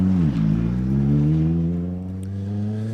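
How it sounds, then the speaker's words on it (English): A Ford Fiesta rally car crosses the line sideways on a forest stage, its engine revving loud and close with a falling then steady roar, no talk over it. "we got the next car just coming across the line there, very sideways. Looks like John Armstrong in the Fiesta."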